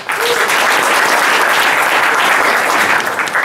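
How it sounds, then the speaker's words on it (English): A conference audience gives a loud, full round of applause for a speaker named Scott, dense, sustained clapping from a sizeable crowd, steady throughout. "Big round of applause for Scott, please."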